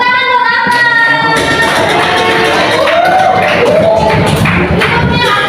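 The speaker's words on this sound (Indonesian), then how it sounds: "Tepuk tangan buat Ahmad." A crowd claps for a participant named Ahmad at a group introduction session, producing loud, continuous applause that follows a brief voice at the start.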